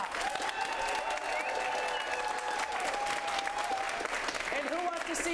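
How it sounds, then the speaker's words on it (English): A crowd at an improv comedy show claps steadily and loudly, with cheering and whoops rising out of the clapping throughout. "get a round of clapping going right now"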